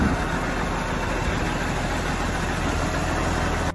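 Case 1570 tractor from the 1970s with an 8.3-litre, 180 hp diesel engine runs at a steady idle, a continuous low rumble with vibration close by, cutting off abruptly at the very end.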